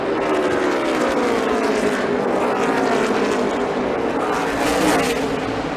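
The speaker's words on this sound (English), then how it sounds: "Kyle Busch is going to pass him for the lead" NASCAR Cup Series stock cars race flat-out on the final lap, a loud, continuous roar of several engines with gliding pitch as cars pass close by, no talking.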